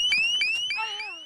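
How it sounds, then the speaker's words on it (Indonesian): An electronic alarm, triggered during a challenge, sounds in loud repeated rising beeps, three quick pulses followed by a longer warbling tone, with no voices. "Karena Mara mengaktifkan alarm, berarti challenge ini harus ia selesaikan"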